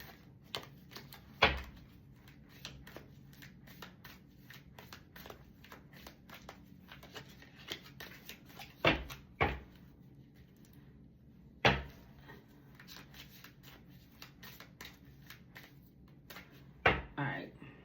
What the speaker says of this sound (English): This is how I'm shuffling these.